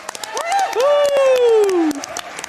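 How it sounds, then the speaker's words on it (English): Crowd applause and cheering for Rivers before a Final Fantasy IV run, scattered sharp claps under a loud drawn-out whoop that rises and then slides down, close and bright. "let's give Rivers a big round of applause before we get started on his run"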